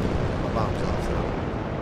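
Bomb blast in War Thunder, a heavy, broad rumbling roar that fills the short stretch at steady loudness with no quiet gaps.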